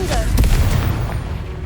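A Confringo fire spell explodes in the Hogwarts Legacy video game, giving a loud, deep booming blast that rumbles on steadily for the length of the clip.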